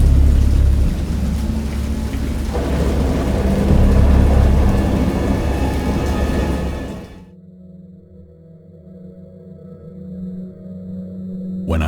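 A thunderstorm roars with heavy, dense rain and deep rolling thunder building to a loud peak, then cuts abruptly to a quieter low drone before swelling again.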